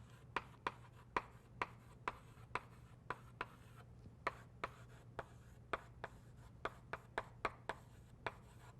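Writing on a board during a university computer science lecture, heard as a steady run of sharp taps and short strokes about every half second, close and fairly quiet over a low background hum, with no talking.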